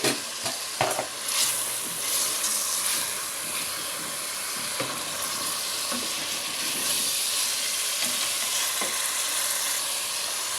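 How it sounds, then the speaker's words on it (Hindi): Chicken pieces fry for a turnip chicken curry in a pan, giving a loud, steady hiss and sizzle, with a few stirring scrapes near the start and occasional faint clinks later, close up with no talk. "चिकन के पीस शामिल करेंगे और इनकी भी हमने उस वक्त तक भुनाई करनी है"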